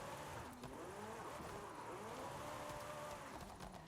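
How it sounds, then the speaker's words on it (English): Porsche 911 RSR race car drifting through corners in Forza Horizon 5, its engine droning and rising and falling in pitch under throttle control, loud and continuous with tire noise. "Now I'm throttle controlling it through the corners, and this car really is nice to drift."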